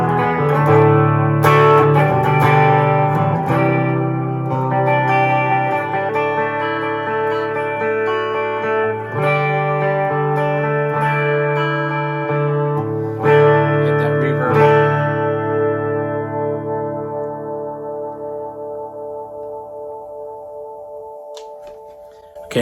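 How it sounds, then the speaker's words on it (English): A Blackstar Amped 1 guitar amp plays a clean tone through a guitar cab: sustained electric guitar chords and notes ring out warm and undistorted, then fade at the end. "This is the clean tone now."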